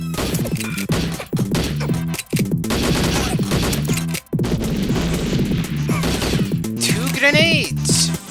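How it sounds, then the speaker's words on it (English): Grenade explosions in the N64 game GoldenEye 007, a loud dense barrage of blasts and crashes mixed with gunfire and game sounds, nearly continuous with brief gaps and a rising whoosh near the end. "Grenades!"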